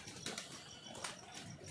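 Pigeons released from a loft flutter and flap their wings, heard faintly as soft, scattered wingbeat bursts and light rustling some distance away, with no voices.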